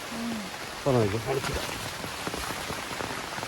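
Steady rain falls across the whole stretch as a dense, even hiss with scattered drops, while a person speaks briefly near the start over the downpour.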